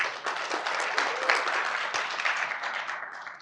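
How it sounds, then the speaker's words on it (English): An audience at a hip-hop culture panel gives a lively round of applause, many hands clapping continuously at moderate loudness and tapering near the end, with a few faint shouts mixed in. "Can we get a round of applause?"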